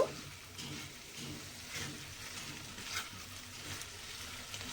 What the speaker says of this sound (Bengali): এবারে এটাকে আরেকটু এইভাবে নেড়ে চেড়ে দেব।